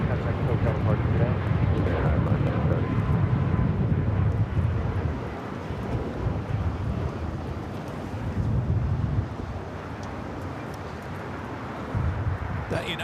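A United Boeing 737 MAX 9 jet departs LAX with a loud, steady broadband engine roar under wind buffeting on the microphone, while voices talk over it throughout.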